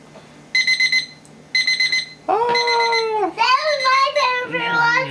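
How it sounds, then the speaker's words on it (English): A kitchen timer goes off during lemon doughnut baking, with two short bursts of rapid electronic beeping, then a child's babbling and crying voice takes over and continues loudly to the end. "That's your timer for watching."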